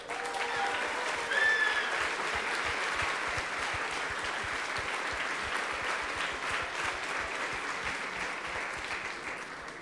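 An audience applauds at the closing ceremony of the ICPC Latin America programming championship, with steady sustained clapping across the hall.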